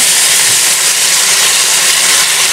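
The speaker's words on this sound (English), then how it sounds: "You can hear them sizzling away." Fried potatoes sizzle in a hot frying pan, a loud, steady hiss of bubbling oil filling the whole stretch without pauses or talk.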